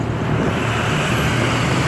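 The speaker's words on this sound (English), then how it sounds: "Oh, what loud cars." Loud road traffic rolls past nearby, a dense steady roar of engines and tyres with a heavy vehicle rumble, no voices over it.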